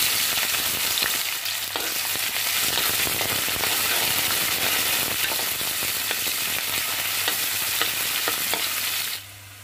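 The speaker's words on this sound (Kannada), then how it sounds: "ನಾನೀಗ ಈರುಳ್ಳಿ ಹಾಕ್ತಾ ಇದ್ದೀನಿ." Onions hit hot oil with popping mustard seeds, making a dense, loud sizzle with crackles and stirring scrapes that runs steadily before cutting off abruptly at the end.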